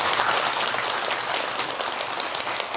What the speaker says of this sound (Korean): 감사의 큰 박수 다시 한번 부탁드립니다.